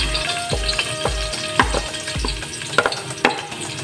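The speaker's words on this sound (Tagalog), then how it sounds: "Kaya mainit na po yung ating mantika. Ilagay na natin tong ating bawang." Garlic sautés in hot cooking oil, a close, steady sizzle broken by repeated thumps and scrapes of a spatula stirring the pan, with no voices.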